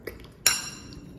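A spoon clinks once, sharp and bright, against a bowl while gooseberries are mixed with salt and chili. A faint knock comes just before it, and a short ringing tail follows.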